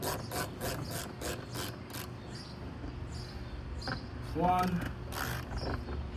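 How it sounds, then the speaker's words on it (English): Ratchet with a 10 mm socket loosening bolts on a BMW X5M Competition while fitting rear side splitters, a series of soft rapid clicking and rasping bursts close by, with a man counting quietly in between. "with my ratchet and the 10 millimeter, I'm gonna take 3 bolts out"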